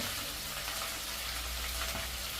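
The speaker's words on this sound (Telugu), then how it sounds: "తరిగేసి పెట్టుకున్న బచ్చల కూర వేసేసేయాలి." Chopped malabar spinach sizzles in hot oil with seasoning, a steady, loud broadband frying hiss that fills the whole stretch without pause or speech.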